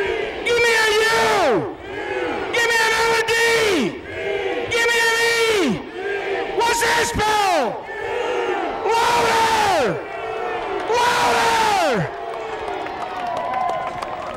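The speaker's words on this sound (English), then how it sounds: "give him a cheer" Crowd at the 2001 Knoxville Nationals sprint car race yelling in loud, rhythmic bursts, about six drawn-out shouts each falling in pitch, like a chanted call-and-response cheer filling the grandstand.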